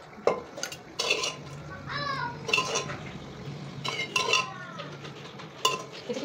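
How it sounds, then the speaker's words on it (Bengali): A bowl is set out and dishes clink while chicken curry is being served, with sharp clinks and taps of crockery repeating close by over a low background, and no talk. "এবার বাটিটা দিয়ে দিই।"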